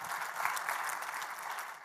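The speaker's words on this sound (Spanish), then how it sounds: "Démosle un aplauso a nuestro Dios, porque Él es nuestro Dios fuerte y poderoso." A church congregation claps together during a Spanish-language worship service, a steady wash of applause that sounds fairly distant and stays even for its brief length without voices.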